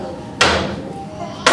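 A hammer hits twice, a sharp close thud and then a second strike about a second later, each ringing briefly in a quiet room.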